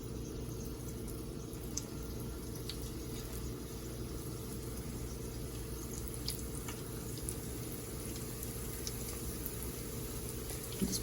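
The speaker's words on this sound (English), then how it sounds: "Yeah, it's starting to sizzle up now." Chicken nuggets frying in oil in a skillet give a soft, continuous sizzle with faint crackles and pops, steady and fairly quiet throughout with no talk.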